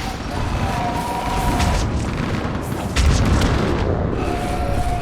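Artillery fire support explosions in the Mass Effect 3 video game, deep booming blasts over a continuous battle rumble, with a heavy hit around the three-second mark, loud and close, voices faintly mixed in.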